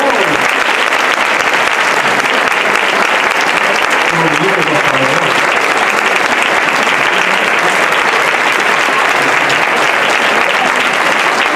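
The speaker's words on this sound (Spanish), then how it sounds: "aplauso, por favor" A dense roar of audience applause fills a hall at a Christmas concert by a wind band. The clapping is loud and continuous and stays sustained and even from start to finish.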